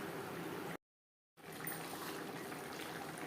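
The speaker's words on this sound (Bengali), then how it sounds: "গ্রেভির সাথে মাছ আরও 3-4 মিনিট রান্না করব" Katla fish belly pieces simmering in an oily, spicy gravy in a pan, a steady close bubbling hiss broken by a short silent gap, then resuming evenly.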